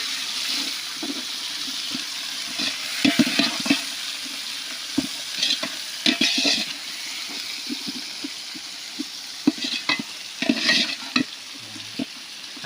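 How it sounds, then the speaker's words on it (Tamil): Tomatoes going into oil in a frying pan for a village-style chicken gravy, a continuous sizzle broken by bursts of stirring and spatula scrapes, close and moderately loud. "இப்போ வந்து நம்ம தக்காளி போட்டுக்கலாம்."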